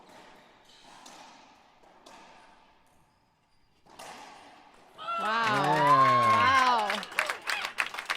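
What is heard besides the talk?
crowd applauding and cheering after a rally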